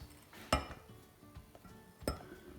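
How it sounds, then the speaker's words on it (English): Two sharp metallic clinks ring out close by as camshafts are set into a Volkswagen/Audi 1.8T (AEB) cylinder head during reassembly, with quieter small taps and handling noises between them. "Now we can go ahead and put in the camshafts"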